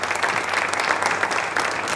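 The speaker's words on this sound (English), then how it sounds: "I think that deserves a round of applause." A press-conference audience applauds steadily, a dense, even wash of clapping that holds at a strong level from start to finish without pause.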